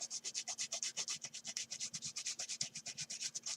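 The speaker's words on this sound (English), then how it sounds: "just make it as central as you can and rub off your excess" Rapid, rhythmic rubbing of a paper strip onto card while making an exploding box card, a fast series of close, soft scratchy strokes repeating steadily with no talking.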